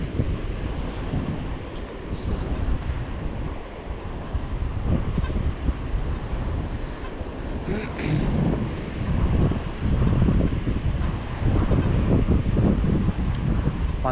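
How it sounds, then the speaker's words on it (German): Sea waves surge onto the beach at Sankt Peter-Ording in a steady, loud, broad roar, with heavy wind buffeting the microphone throughout and no clear breaks. "Man hört die Wellen rauschen."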